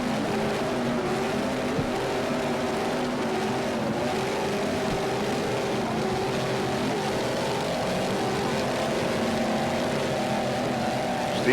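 Racing powerboats roar past off Key West, a loud, sustained engine drone with layered whining tones that holds steady throughout, with no talk.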